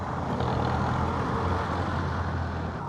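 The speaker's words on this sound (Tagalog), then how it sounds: "At pati dito ang daming sasakyan." Busy road traffic with many vehicles passing on a route toward Antipolo via Mahabang Parang, a loud, steady engine and tyre rumble heard close by with no break in the noise.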